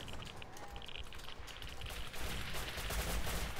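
Gunfire in the video game Rust, a quick run of sharp shots from a firefight, moderately loud, with a faint voice in the background.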